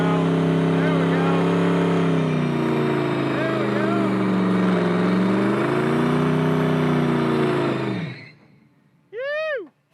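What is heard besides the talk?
car engine accelerating while driving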